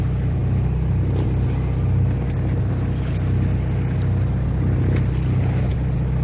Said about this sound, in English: we have the engine on because the wind is right behind us